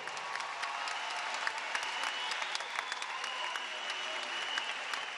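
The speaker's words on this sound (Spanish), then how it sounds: "Un aplauso a estas mujeres de este coro maravilloso." Applause from a large crowd at a Venezuelan presidential launch event salutes a women's choir, a sustained, even roar of clapping heard at some distance, steady across the whole stretch.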